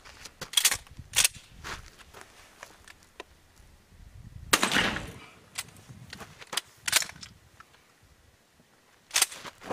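A High Standard Pintail Trap 12 gauge shotgun with a 28-inch barrel fires a series of sharp, loud outdoor blasts at irregular intervals, some shots close together, with quiet gaps and faint rustling between them.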